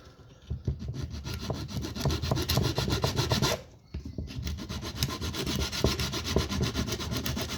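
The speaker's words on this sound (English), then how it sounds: "putting a bit of sandpaper inside the dowel that you've got, you want to just make a little groove" Sandpaper rubbed inside a wooden dowel to wear a small groove while making arrows: rapid, rhythmic rasping strokes, close and fairly loud, with a brief pause in the middle before the scraping resumes.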